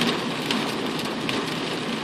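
Steady rain falls in a continuous dense hiss, close and even throughout, with no voices.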